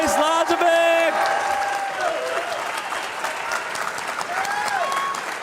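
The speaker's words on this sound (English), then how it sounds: "You can definitely hear the crowd now, right?" A crowd at a speed chess championship final applauds winner Denis Lazavik, sustained clapping filling the room while someone speaks loudly over it.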